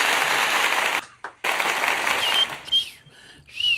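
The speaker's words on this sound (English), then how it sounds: "If y'all want to hear some licks, let me hear an applause" A burst of crowd applause, loud and hissy, cuts off briefly and then resumes before fading into scattered noise and a few faint whistles.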